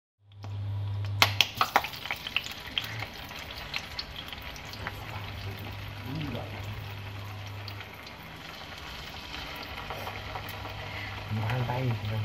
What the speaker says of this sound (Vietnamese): Dán thật là giòn lên các bạn nha.